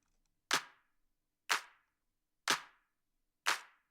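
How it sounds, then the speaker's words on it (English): Four crisp electronic claps from a minimal techno track land evenly about one second apart, each a sharp dry hit with a short tail cut off by LFO Tool shaping, separated by silence. "I'm using LFO tool to shape the sound of these claps"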